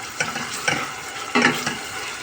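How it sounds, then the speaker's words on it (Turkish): Oil sizzles steadily as chopped onion and pepper fry for bulgur pilaf, with a few louder stirring scrapes from the pan. "Bulgur pilavı için soğanımı, biberimi doğradım, kavuruyorum."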